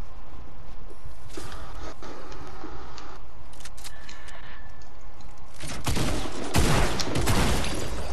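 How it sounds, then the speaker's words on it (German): Airstrike explosions in the Fortnite video game, a scatter of sharp bursts and crackling impacts early on, then a louder cluster of blasts and rumbling near the end, close and punchy. "Das war Luftschlag."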